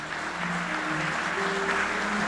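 A church congregation applauds during a Yom Kippur sermon, steady mid-level clapping throughout with a low tonal hum underneath, no voices on top.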